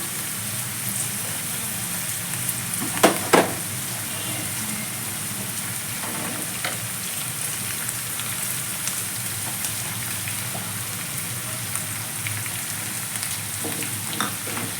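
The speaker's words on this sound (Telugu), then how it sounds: "ఈవెన్గా ఫ్రై అయ్యేలాగా మిక్స్ చేసుకుంటూ ఫ్రై చేసేద్దాం" Moong dal frying with green chillies and onion, a steady hissing sizzle throughout like light rain, broken by a couple of brief stirring knocks early on.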